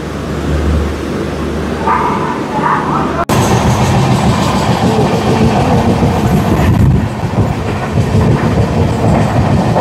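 Passenger train running from Howrah to Puri, heard from inside the coach as a loud, continuous rumble with rhythmic clatter of wheels over rail joints and a brief jolt partway through.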